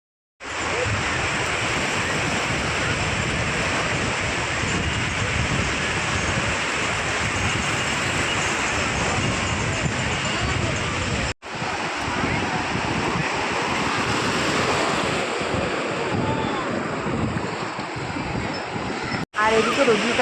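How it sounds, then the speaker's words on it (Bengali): Sea waves break on a beach in a constant roaring wash of surf, loud and unbroken for the whole stretch, with wind buffeting the microphone and two brief dropouts in the sound. "আর জলের তো প্রচণ্ড আওয়াজ হচ্ছিল"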